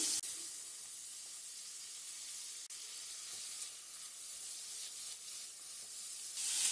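Chopped button mushrooms cook in a hot pan with a steady, close, hissing sizzle that holds even throughout, with a faint clink midway.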